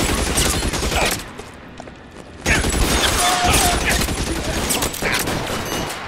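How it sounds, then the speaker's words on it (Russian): Rifle fire in the crime game L.A. Noire: loud, close bursts of shots cracking over each other, a brief lull around two seconds, then another dense volley of gunfire. "Отлично, мы с винтовочки всех завалили"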